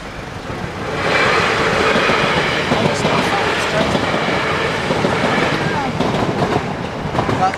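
A South Western Trains-branded train rumbles past a Southampton level crossing nearby, loud and steady, with wheels clattering over the rails and a faint metallic squeal, while someone speaks briefly.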